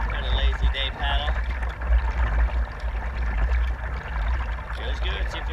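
Lazy kayak paddle strokes dip through calm water, giving soft, repeated splashes and trickles at close range, with a voice heard faintly along with them.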